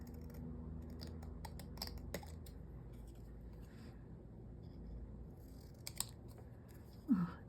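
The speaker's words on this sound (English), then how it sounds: "I'm just going to get these bigger scissors just to make sure it's sort of straight." Large scissors trimming a fluffy squirrel bundle, a series of quick crisp snips at irregular intervals, close and fairly quiet, with a short squeak near the end.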